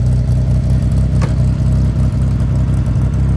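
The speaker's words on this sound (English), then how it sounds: "Now he's got Cherry Bomb's exhaust, Cherry Bomb mufflers. That's a straight through glass pack muffler." A carbureted car with straight-through Cherry Bomb glass pack mufflers rumbles at a cruise night in Frankfort, Illinois, its exhaust thumping in a deep, throbbing low note. It revs with one brief sharp burst near the middle, close and loud.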